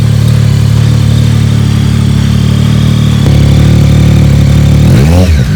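A motorcycle with an Akrapovic exhaust idles loudly with a steady exhaust rumble in cold 35-degree air, then revs sharply near the end, the pitch climbing and falling.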